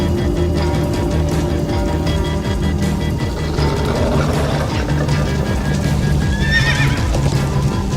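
Horse in the Minecraft: Story Mode game whinnies loudly over a busy, continuous clatter of galloping hooves, with rumbling action noise throughout and a shrill neigh near the end.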